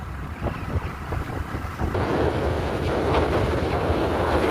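A scooter ridden slowly along a wide new road toward the highway: continuous wind rush over the microphone with a low rumble that swells louder partway through and stays steady.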